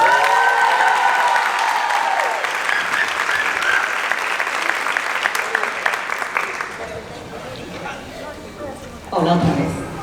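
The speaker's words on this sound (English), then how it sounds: "I want the biggest round of applause for Estrella Bueno" A graduation audience breaks into loud applause and cheering that gradually thins, then a voice speaks briefly near the end.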